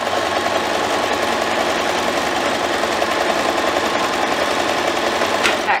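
A sewing machine stitches a handle and tabs in one continuous run at a quarter-inch seam, its motor whirring in a close, steady buzz that cuts off abruptly at the end.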